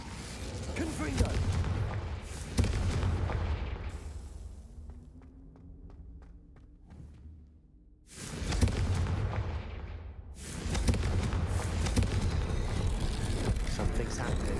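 Confringo fire spell blasts in the video game Hogwarts Legacy, loud booming explosive bursts over dense combat noise, with a quieter stretch of clicking and ringing before the blasts resume.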